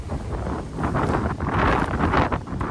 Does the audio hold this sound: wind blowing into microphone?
yes